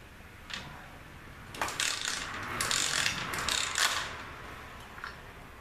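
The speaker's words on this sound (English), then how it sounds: "I'll see if I can kick it over a little bit without moving it." Repeated mechanical ratcheting and clanking as a Coolster pit bike engine, spark plug removed, is kicked over several times, with no ignition or compression, close by.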